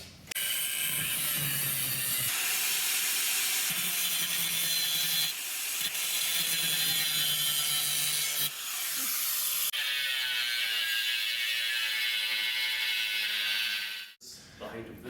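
A power saw grinds steadily through a truck's steel rear frame rail, a loud continuous cutting noise with shifting pitch that briefly drops out near the end.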